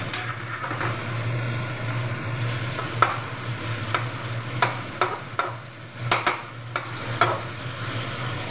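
Vegetables fry in a pan with a steady sizzle while a spoon stirs and scrapes them, giving sharp clacks and scrapes at irregular intervals, close and clear with no talking.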